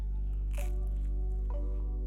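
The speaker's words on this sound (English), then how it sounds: "And that crunch is absolute perfection." A bite into a par-baked Rosati's pepperoni pizza loaded with cheese gives two crisp, close crunches, about a second apart, over a steady low hum.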